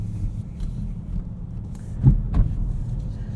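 A 2022 Kia Stinger GT2 AWD with a V6, cruising in comfort mode: a steady low engine and road rumble fills the cabin, with a couple of brief knocks near the middle.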